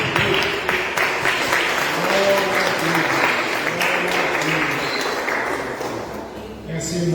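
Congregation applauding during a church service, a steady wash of clapping across the whole stretch with a preacher's voice speaking over it.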